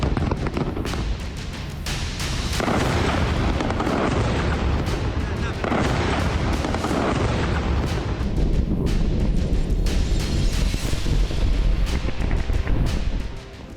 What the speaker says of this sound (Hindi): मौत के धमाकों से फिर दहला लेबनान